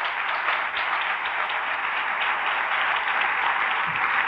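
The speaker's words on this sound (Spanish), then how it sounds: "démosle un aplauso al Señor, hermano, que se lo merece" A church congregation applauds steadily, a dense wash of many hands clapping that stays loud and even throughout with no talk over it.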